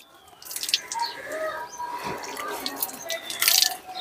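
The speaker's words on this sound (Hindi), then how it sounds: "चलो मुंह धो अच्छी तरह से" Tap water runs and splashes into a sink while a child's face is washed in a village home, a steady close trickle with drips, faint background sounds around it.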